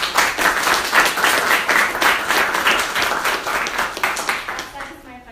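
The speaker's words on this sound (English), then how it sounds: "So let's have a round of applause." Crowd applause at a political event for a Virginia governor candidate, a full round of many hands clapping that stays strong, then tapers and dies out at the close.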